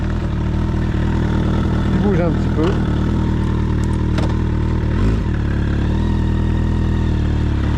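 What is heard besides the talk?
1996 Suzuki 1200 Bandit motorcycle engine idling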